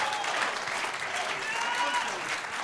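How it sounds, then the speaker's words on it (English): Audience clapping in a lively prophetic church service, a dense, steady wash of applause filling the whole stretch with a few voices audible underneath. "The way you clap your hand"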